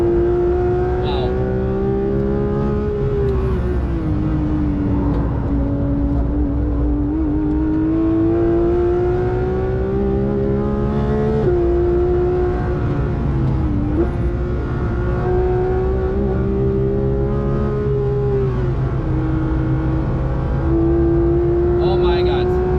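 Porsche GT3 track car lapping the Nürburgring: a loud, steady engine drone from inside the cabin, pitch rising and falling through gear changes and corners, with a sharp lift-off dip near the middle, running continuously with no voices.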